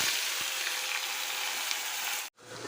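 Ground onion paste fries in oil for chole masala, giving a close, steady sizzle that runs unbroken until a brief dropout near the end.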